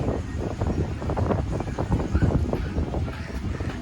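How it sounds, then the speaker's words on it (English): Gusty wind buffets the microphone in a continuous low rumble on a beach at Barrio Barretto, Subic Bay, with faint waves and outdoor background noise underneath. "Windy day here on the Subic Bay."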